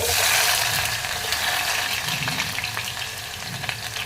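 Onion dropped into hot oil with popped mustard seeds for a broccoli kurma, a dense close sizzle that starts loud and settles into a steady crackling fry.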